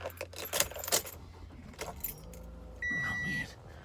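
Car keys jangle sharply in a couple of bright bursts inside a vehicle, close and loud, followed by a short chime tone, with a little talk.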